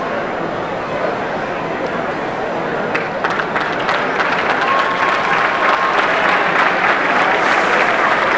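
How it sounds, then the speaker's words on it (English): Crowd applause and cheering at a high school football game for an injured Horseheads player, loud and sustained and swelling toward the end, with an announcer's voice over it. "So a round of applause for the injured Horseheads player, Henry Juwan."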